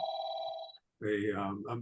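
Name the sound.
phone ringing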